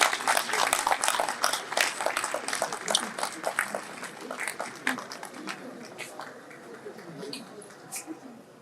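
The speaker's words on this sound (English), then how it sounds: "Keep clapping, please, until he gets here." Audience applause at NiMet's 2025 Seasonal Climate Prediction event hosted by Nigeria's aviation minister: loud, dense clapping from a crowd in a hall, gradually thinning and fading toward the end.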